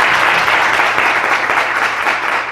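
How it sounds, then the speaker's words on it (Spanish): A lecture audience breaks into dense, continuous clapping after a talk on Tseltal ethnoentomology, loud and close throughout without a break. "les damos un gran aplauso"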